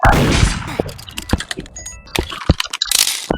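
Gunshots in the Roblox game Murder Mystery 2 crack as sharp, sudden bursts, several uneven shots mixed with clicking keys and brief noisy blasts, loud and close.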